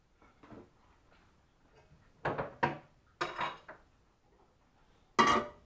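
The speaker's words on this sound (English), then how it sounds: "Hold on, I'm going to get another pan." Metal brewing pan being fetched and set down during a brew-in-a-bag session, heard as a few sharp clattering knocks and scrapes of cookware, close and fairly loud, between quiet pauses with no talk.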